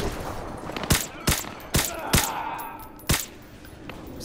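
Five sharp gunshots from Call of Duty: Modern Warfare 2 Remastered ring out at uneven intervals over a low rumbling battle backdrop, each a crisp broadband crack with a short tail.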